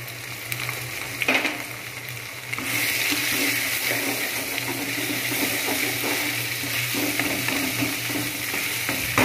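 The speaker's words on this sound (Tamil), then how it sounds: "இப்போ தக்காளி போடுக்கலாம், இது நல்லா வதக்கலாம்." Tomatoes and turmeric sauté in a pan for a chicken biryani, giving a continuous close sizzle that grows louder partway through, with frequent scraping stirs and clinks of the spoon throughout.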